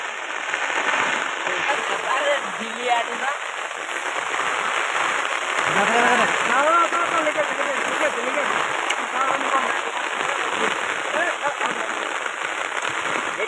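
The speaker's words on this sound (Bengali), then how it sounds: "বৃষ্টিটা কম পড়ছে কি না" Continuous heavy rain from a low-pressure storm hisses throughout a fishing trip, with voices talking over it now and then.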